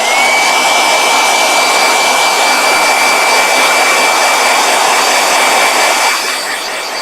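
Continuous whooshing roar of a blow dryer running close by, steady airflow with a thin whine, easing slightly near the end, no voices.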